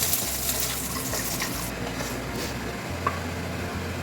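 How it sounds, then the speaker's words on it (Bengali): Lentil dumplings (bori) fry in hot oil in a wok, a dense steady sizzle with a low hum beneath, continuous and close throughout. "আমি কড়াইতে তেল দিলাম, তেলটা গরম হয়ে গেছে, এবারে আমি বড়িগুলো ভেজে নেব"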